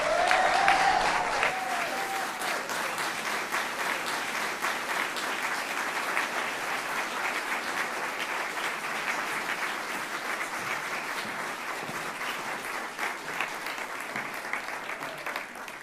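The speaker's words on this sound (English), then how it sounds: "Okay, can we give another round of applause to Alaric Jason Watkins" Sustained applause from a crowd at a county MLK celebration, loud and steady for the whole stretch after a brief vocal note at the start.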